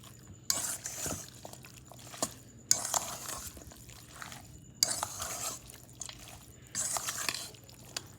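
A spoon works through coconut curry chicken in a pot, producing rhythmic scraping and sloshing strokes in bursts about every two seconds, close and moderately loud, with no talking.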